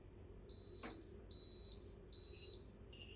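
Three short, high electronic beeps in an even rhythm from a Breville Barista Express BES870 espresso machine, faint against a quiet background.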